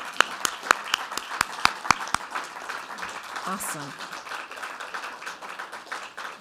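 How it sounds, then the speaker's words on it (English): Applause at a faculty award ceremony for MLK Week 2023, opening with a handful of sharp, sparse claps that swell into steady, continuous clapping from the audience while a voice briefly speaks over it. "So let's give them a round of applause"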